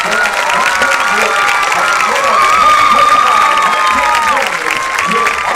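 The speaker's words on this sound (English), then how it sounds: "let's have a round of applause for our homecoming" Crowd at a Brooks HS vs Wilson HS high school football game cheering and applauding the homecoming queen, a loud steady roar of clapping and shouts with whistles and children's voices running throughout.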